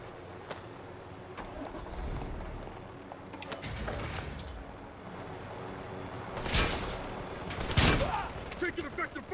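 Gunfire in the Vertical video game: scattered shots and bursts at middle distance with sharper loud cracks later on, set against ongoing game ambience and voices.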